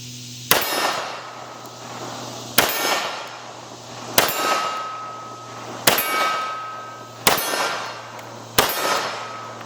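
Six loud .357 revolver shots from a Colt Viper, fired at an unhurried, fairly even pace, each one a sharp crack with a bright metallic clang as the round strikes a steel target, then a brief ringing decay. No one speaks.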